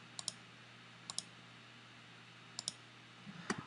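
Sharp computer mouse clicks during CAD sketch patterning of a top plate, four quick single or double clicks spaced about a second apart over a quiet background hum.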